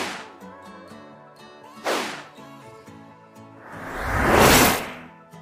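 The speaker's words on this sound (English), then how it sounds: "learn how to create a super speed effect in CapCut" A super speed whoosh effect made in CapCut: a quick whip-like swish, then a big rising and falling swoosh, set among ringing, tonal musical hits.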